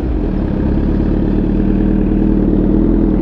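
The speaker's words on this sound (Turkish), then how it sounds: "debriyaja basmadan Suzuki marş almıyor arkadaşlar. O yüzden debriyaja basarak çalışıyorum." A Suzuki GSX-R1000 motorcycle engine idling up close, a loud, steady, throbbing rumble that holds even throughout with no speech over it.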